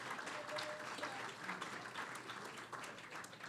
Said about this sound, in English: Clap your hands for them.